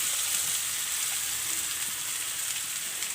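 Boiled mashed potatoes are stirred into a sizzling spiced mixture in a pan, a steady frying hiss under soft scraping of the stirring, with no voices.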